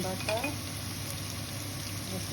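Garlic and ginger paste fries with softened onions for a chicken curry, giving a steady, low sizzle close by with faint stirring scrapes near the start.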